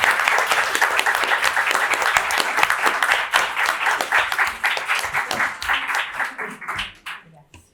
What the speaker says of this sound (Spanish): Así que nada, un aplauso.